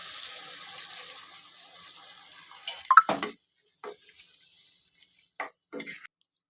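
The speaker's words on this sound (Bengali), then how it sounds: "পরিমাণ মতন জল দিয়ে দিচ্ছি।" Water is poured into a pan of chicken and fried taro with Malabar spinach: a faint hiss, then a brief close splash and a few scattered short splashes separated by silence.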